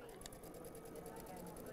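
A sewing machine steadily stitching quilt pieces, a quiet, continuous mechanical whirr with a fine rapid rhythm throughout.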